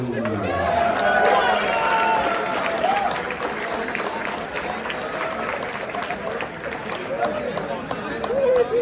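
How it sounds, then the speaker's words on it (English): A large crowd at the Warhammer World Championships opening in Atlanta applauds steadily for several seconds, dense and sustained, with cheering voices and chatter running through it. "A big round of applause for the fine country alphabetically, Wales"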